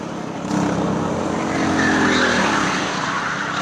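Go-kart race cars run on a karting track in Bandaragama, producing a loud, continuous engine roar that swells early and holds steady, with a faint tire squeal partway through.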